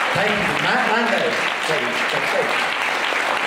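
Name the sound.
audience applause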